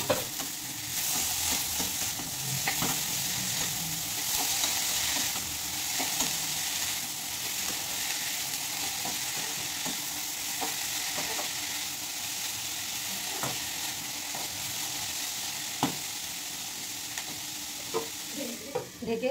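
Banana stem frying with spices in a pan, a steady close sizzle and crackle of hot oil running throughout, broken by occasional soft stirring scrapes.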